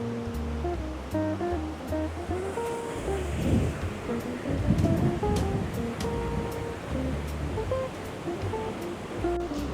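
Mountain river in Andorra flowing steadily, a continuous rushing wash of water that stays moderately loud throughout, with a few surges mid-clip and faint tonal background sounds.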